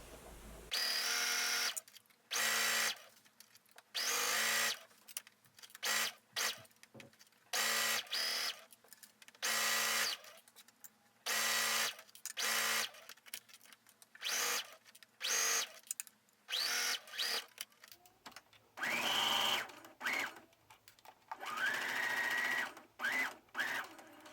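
A sewing machine stitches a sleeve seam on a mock neck bishop sleeve top in repeated short bursts of fast whirring, each a second or two long, separated by brief pauses, close and clear.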